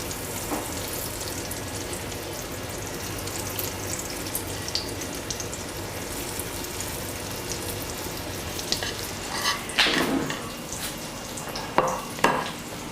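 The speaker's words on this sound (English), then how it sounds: "Now that that sizzle of the milk fats in the butter has faded, I can drop in my chicken cutlets." Chicken cutlets sizzle steadily in butter in a frying pan, a constant broadband hiss with a few louder spits and crackles near the end, close by and with no talking.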